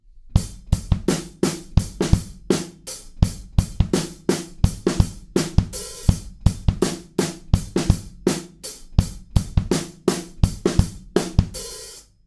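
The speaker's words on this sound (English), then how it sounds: "when the drums kind of come back in, the beat sounds like this." A steady drum kit beat pounds out a regular pattern of kick and snare hits with occasional cymbal crashes, loud and up close.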